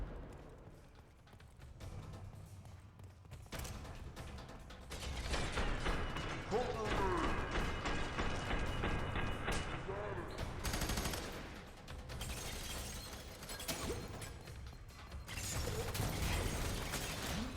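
Bursts of rapid gunfire mixed with mechanical clatter and combat noise in the video game Fear 3. The shooting is dense and sustained across most of the clip, with shouting voices in the mix.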